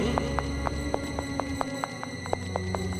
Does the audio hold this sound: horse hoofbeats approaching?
yes